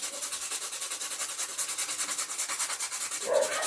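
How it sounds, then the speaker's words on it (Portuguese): Fine sandpaper rubbed rapidly back and forth over a figure, an even rhythmic scratching hiss up close, steady throughout with no voices. "Vou lixar todo o boneco"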